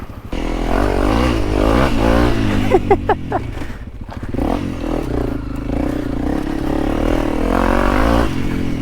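An enduro motorcycle engine drones steadily with revving surges, accompanied by scraping and clattering from rough ground as it rides along off-road in Thailand.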